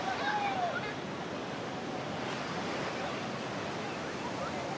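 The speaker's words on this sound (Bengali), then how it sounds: "কি প্রবল, কি উত্তাল বেগে ঢেউ আসছে।" Strong ocean waves crash and roar continuously on Puri beach, a broad, dense surf wash with wind noise over the microphone and no pauses between breakers.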